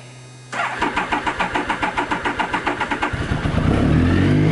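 A motorcycle engine started with the key and clutch pulled in: a rapid rhythmic cranking for about two and a half seconds, then the engine catches and settles into a loud, close idle.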